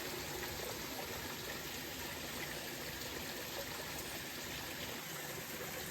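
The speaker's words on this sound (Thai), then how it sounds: "เอาหินออกไปข้างเพราะมันก้อนใหญ่ขวางทางน้ำมากเกินไป ทำให้น้ำไหลไม่สะดวกนะผมเลยเปิดให้มันไหล" Stream water runs steadily and unbroken after large rocks blocking the channel were cleared away, a close, broadband rushing flow with no voices.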